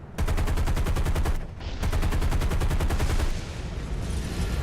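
Aircraft guns fire in War Thunder during a ground attack, loud and close, in rapid sustained bursts with a brief pause partway through.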